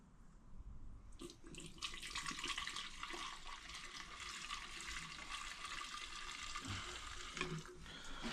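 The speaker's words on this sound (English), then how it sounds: "A bit of fuel in the bottle." Fuel is poured into a bottle in a steady liquid stream that starts after a brief pause and runs continuously, close and moderately faint.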